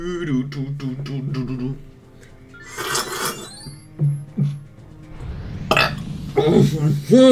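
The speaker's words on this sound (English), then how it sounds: "That was a weird burp." A weird, warbling burp in the Star Fox 64 video game, heard amid clipped character voice lines and game effects, fairly loud and up close.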